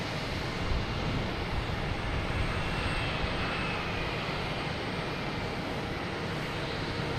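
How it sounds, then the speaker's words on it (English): Aer Lingus airliner starting its departure roll on runway 22 right at Boston Logan, a constant distant jet engine roar, even and unbroken, with no one speaking. "we got Aer Lingus lined up on 22 right"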